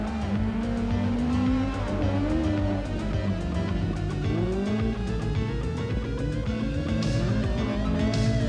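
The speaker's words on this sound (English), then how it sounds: "this little Nissan Sunny singing as he chases the bigger engine machines." A 1300cc Nissan Sunny rally car races at a rallysprint, its small engine revving high and steady with rising and falling pitch through gear changes, loud and close, with brief tire squeal and no voices.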